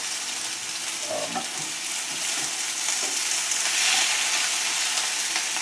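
Chicken breasts pan-frying in extra virgin olive oil for chicken paillard, giving a steady, close, loud sizzle that holds throughout with faint stirring or scraping and no talk.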